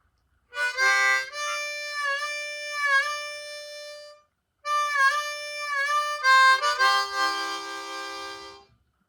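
A harmonica plays wavering, bending notes on holes 3 and 4 in two long phrases separated by a short pause, with a rougher chordal burst at the end.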